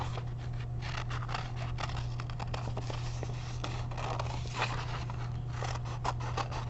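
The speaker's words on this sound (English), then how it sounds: "Next, I will take my scissors and cut it out." Steady snipping and rustling of scissors working through paper, soft repeated cuts over a low constant hum, with no talking.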